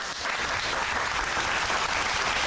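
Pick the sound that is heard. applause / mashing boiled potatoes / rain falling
applause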